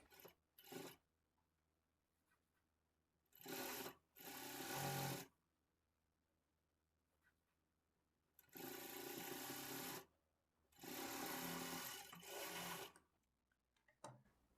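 An electric sewing machine stitches a folded shape belt onto a blouse in four separate bursts, short at first and then longer runs, each close and crisp with quiet pauses between.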